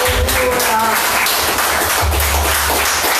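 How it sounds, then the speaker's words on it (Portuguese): A church congregation applauds during a Portuguese-language worship service, loud, close clapping mixed with low rumbling hum and scattered voices, building into a dense, sustained burst. "Aplauda o Senhor."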